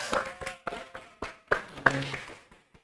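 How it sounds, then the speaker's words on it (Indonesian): A small audience greets a university vice rector with a thin, sparse patter of claps, about eight distinct hand claps spaced unevenly and fairly quiet, trailing off into near silence. "Beri tepuk tangan."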